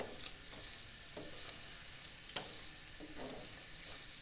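Mutton liver (kaleji) frying in a pan with ginger garlic paste, a steady broad sizzle with occasional soft scrapes and one sharp clink, no one speaking.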